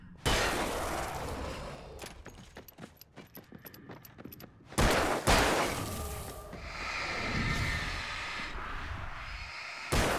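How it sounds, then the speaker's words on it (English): Enemy gunshots in Alan Wake's coal mine, sharp cracks and bursts scattered among mechanical clanks and ratcheting clatter, with louder blasts around the middle and end against a quiet, echoing background. "I hate the fact that they shoot twice."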